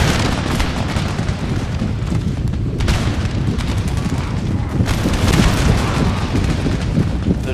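Artillery fire in the Empire: Total War video game rumbles continuously as dense, loud, booming battle noise with repeated impacts throughout.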